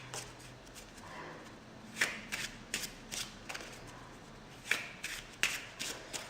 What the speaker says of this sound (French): on va un petit peu mélanger le jeu.